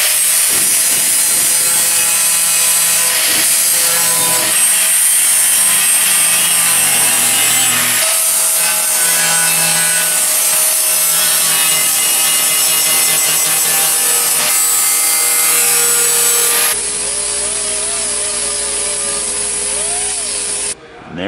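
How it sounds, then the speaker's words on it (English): A power grinder works down a freshly welded-in steel body panel on an XB Falcon coupe build, a loud, continuous harsh abrasive roar that holds steady for about seventeen seconds before the pitch shifts and the tool spins down. "getting ready to grind it down."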